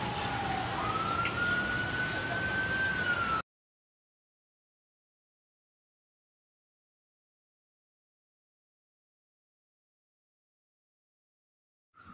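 A flood warning siren sounds during the Sri Muda flood, a steady rising and falling wail heard over a noisy outdoor background for about three seconds before the sound cuts to silence.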